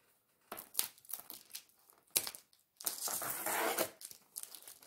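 Scissors slicing open the cardboard box of a 51 by 56 cm diamond painting kit, heard as several close, dry crinkling and cutting bursts, with a longer rustling stretch in the middle.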